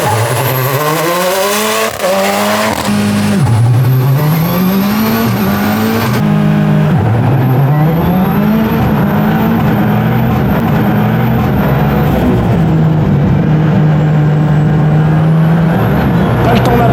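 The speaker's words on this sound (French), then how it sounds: "on va pouvoir faire un vrai launch start comme en course" A rallycross car makes a race launch start: the engine roars loud and close, revs climbing and dropping through quick gear changes, with tire noise and a high whine running over the whole burst.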